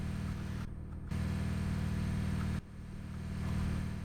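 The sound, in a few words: Scania truck engine hitting the rev limiter, Euro Truck Simulator 2 video game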